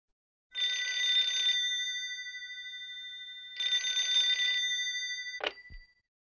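A telephone rings in two separate bursts of electronic double-tone ringing, fairly loud and close, with a short click right after the second burst as the call is picked up. No one speaks.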